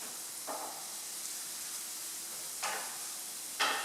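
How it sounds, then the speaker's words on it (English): Onions frying in a pan with herbs stirred in make a quiet, steady sizzle, broken by three brief scraping stir sounds that grow louder, the last one the strongest. "So you just stir your herbs into the onions"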